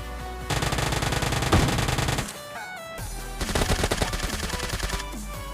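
Rapid Uzi submachine gun fire in the PUBG Mobile Lite video game, loud continuous bursts that cut off briefly near the middle and then resume, with no talking.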